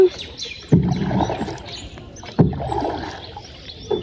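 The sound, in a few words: rowing a boat through water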